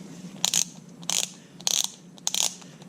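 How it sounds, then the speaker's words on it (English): A torque wrench tightening the oil drain plug on a GSX-R motorcycle ratchets in four quick bursts of clicks, close and crisp with short pauses between strokes. "We're going to torque it to 78 inch-pounds because this is what that reads in."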